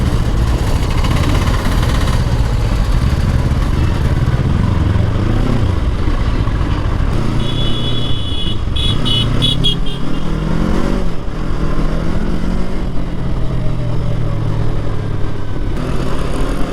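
A 2024 Yamaha R3 motorcycle ridden through busy afternoon traffic in Bangalore, its engine droning continuously close by, rising and falling with throttle amid surrounding vehicle noise and a brief high horn-like tone.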